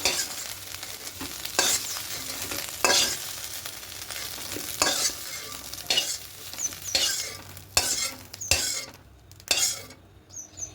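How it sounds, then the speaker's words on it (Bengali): Egg bhujia fries in white oil in a wok, with steady sizzling under repeated scraping, stirring strokes of a spatula against the pan that come at an irregular rhythm close by. "কড়াইয়ে সামান্য সাদা তেল দিয়ে প্রথমে ডিমের ভুজিয়াটা করে নেব"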